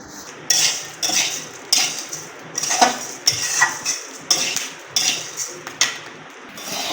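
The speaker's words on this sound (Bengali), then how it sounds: "এভাবে কড়াইতে অল্প অল্প করে নিয়ে পুরো উপাদানগুলো ভেজে ফেলা হচ্ছে" Repeated metallic scraping and clinking of a utensil against a wok while sun-dried homemade baby food ingredients are fried in small batches, about a dozen strokes in steady rhythm, close and fairly loud with no talking.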